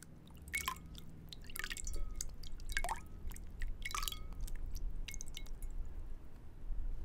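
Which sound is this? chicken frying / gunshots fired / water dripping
water dripping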